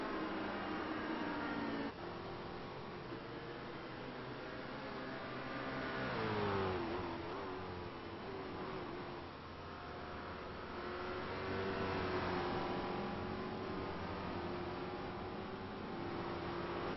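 GT1 race cars, including Ford GTs, howling at speed around Watkins Glen, a continuous loud engine roar with rising and falling pitch as cars accelerate, shift and sweep past, no voices.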